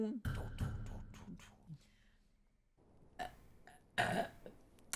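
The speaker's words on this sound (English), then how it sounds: "Sorry, I had a little burp." A person burps during a gaming stream, with speech and other voice sounds around it, brief loud bursts standing out over quiet gaps.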